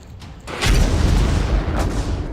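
Explosions in Irpin, Ukraine, come as a deep, booming roar that swells after a short quiet start and rumbles on with broadband noise and a few sharper bursts, loud and without speech.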